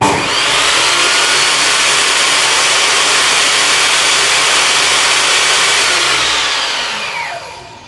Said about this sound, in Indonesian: Tadi kalau kita perhatikan untuk motornya ini seperti ada brake-nya ya, kayak remnya, tapi memang tidak berhenti seketika.